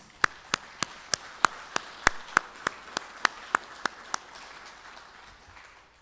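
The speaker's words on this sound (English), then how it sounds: "A big round of applause to the 10 graduates." A single person claps slowly and evenly, about a dozen sharp separate claps, for ten graduates at a tribal college graduation ceremony; the claps are distinct and fade out near the end.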